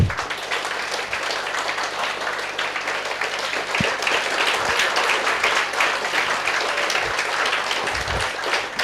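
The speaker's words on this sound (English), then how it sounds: "Then would you like to clap once?" An audience of students in a class claps together in a sustained burst of applause, fairly close, with a few thumps and scattered claps standing out.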